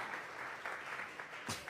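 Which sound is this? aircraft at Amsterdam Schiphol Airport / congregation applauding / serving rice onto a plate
congregation applauding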